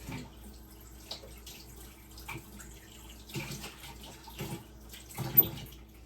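Water from a kitchen tap runs while a canning funnel is rinsed in a sink. A low steady trickle is broken by a few louder splashes near the end.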